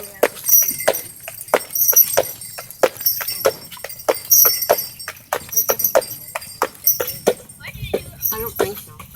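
Carriage horse hooves clip-clop on a hard surface in a steady, brisk rhythm, close by, with sharp clacking strikes.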